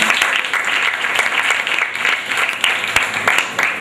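A group of children at a reading event claps together, a loud, close, sustained burst of many small hands with distinct individual slaps standing out in the mix.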